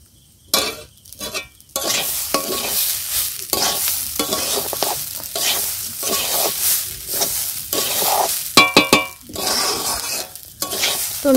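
Pulao cooking in a pot at night, a loud steady sizzle broken by repeated scraping strokes of a spoon stirring the rice, close and continuous with no talk.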